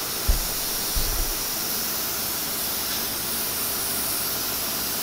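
A Mr. Green model steam engine runs with a steady, close hiss of steam, and two soft low thumps come near the start.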